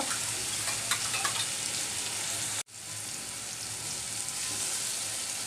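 An egg frying in hot oil with long beans gives a steady, dense sizzle that cuts out for a moment and then resumes just as strong, with no voices.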